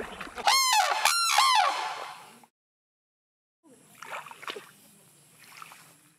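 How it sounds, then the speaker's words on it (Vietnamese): A sarus crane gives two loud, close, harsh trumpeting calls, followed by a pause and then fainter scattered sounds. "Tên khoa học là Sarus Crane, hay còn gọi là sếu đầu đỏ"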